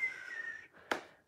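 A person whistles a steady, slightly wavering tone, imitating strong wind whistling around a house, then gives a short breathy burst. It is faint and heard alone, with no talking.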